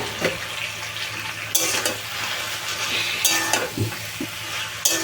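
Marinated chicken sizzles in a hot pan while being stirred for mango chicken, a steady close frying hiss with repeated scraping strokes and clinks of the spatula.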